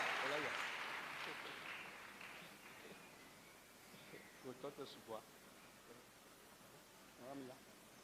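A church congregation claps after a testimony, a broad wash of applause that starts fairly strong and soon fades into the background while a voice speaks.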